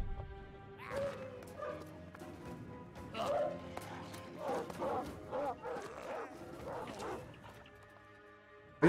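A dog in the Battle Brothers video game, named Grey Fang, yips and barks in short bursts mixed with whimpers, scattered across a battle scene with faint background tones.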